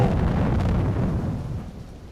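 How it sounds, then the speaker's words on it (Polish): A deep, rumbling blast of a tanker ship exploding in a submarine video game roars loudly with low-end energy, then slowly fades out over about two seconds. "Na taki wybuch chyba się liczyłem."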